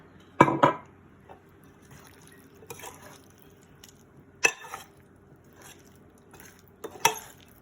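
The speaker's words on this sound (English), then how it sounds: "Now I'm really doing all the stirring now because I don't want to break up the eggs too much" A spoon stirs traditional Italian potato salad with eggs and extra virgin olive oil in a bowl, giving soft wet scraping with a few distinct clinks against the dish, spaced several seconds apart.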